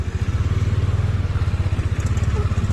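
A Bajaj Dominar 400 motorcycle running after sitting unused for one and a half to two years, its engine idling close by with a steady, lumpy low thumping pulse.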